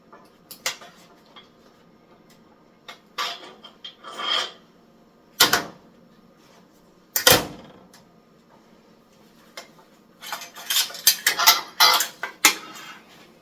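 Sharp metallic clanks, scrapes and rattles as a tacked bicycle main-triangle frame is removed from a welding jig and flipped over, coming in irregular bursts separated by quiet pauses.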